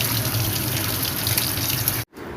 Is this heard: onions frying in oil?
no